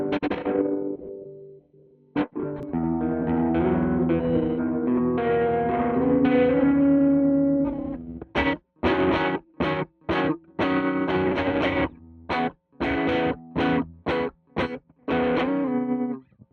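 Electric guitar through an effect built on a Chroma Console pedal, first a sustained chord ringing with heavy modulation and reverb, then a run of sharp, choppy rhythmic stabs with gated silences between, loud and alone.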